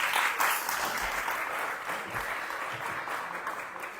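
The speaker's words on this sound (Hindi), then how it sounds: "एक बार सब जोर से ताली बजा दीजिए इसके लिए।" A crowd at a spiritual satsang gathering claps loudly and continuously, a full wash of applause in a reverberant hall, easing slightly toward the end.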